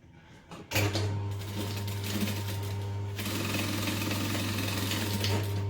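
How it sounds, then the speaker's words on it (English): A sewing machine runs a steady, fast straight stitch through backpack lining after a brief start, its rapid mechanical hum and needle chatter close and continuous. "I'm just going to sew the straight part"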